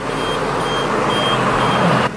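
A farm tractor fitted with air brakes idles loudly and steadily right after starting while it builds brake pressure, a close, continuous engine rumble with a faint high tone, and no talking.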